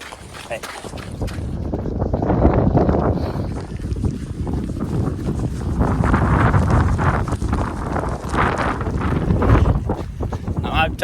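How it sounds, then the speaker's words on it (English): Strong wind on a ridge above a river buffets the microphone in gusty, rumbling surges, with someone speaking over the blustery noise. "It's very windy."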